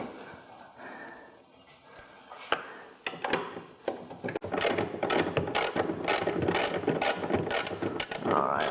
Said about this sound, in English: we're going to take our socket wrench, and we're just going to remove this bolt